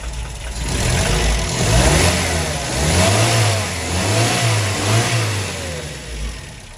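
Volkswagen car engine, all original and recently fitted with a reworked carburetor, revving loudly up and down in several rising and falling surges close by, with no talking.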